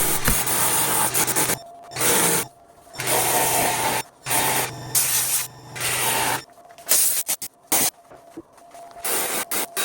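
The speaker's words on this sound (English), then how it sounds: "Sanding is very tedious and time-consuming work" Loud bursts of sanding a birch burl and resin piece start and stop repeatedly, with a steady low hum of a spinning wood lathe underneath during the first half.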